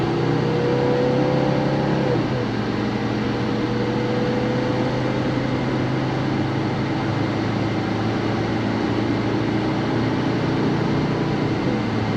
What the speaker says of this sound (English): I'll see if I can get this car moving a little bit, show how it accelerates